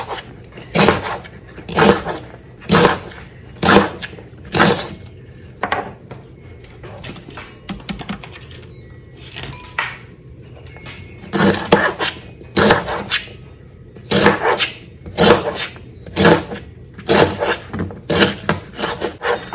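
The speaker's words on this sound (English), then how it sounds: "I'll just keep chopping this up" Rhubarb being chopped on a board, sharp knife strikes in quick bursts with short pauses between runs, close and fairly loud.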